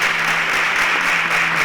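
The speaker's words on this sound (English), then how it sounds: "A round of applause for Michael." Studio audience applause on a Nigerian televised quiz competition, a dense steady wash of clapping from many hands, loud and continuous throughout with no voices over it.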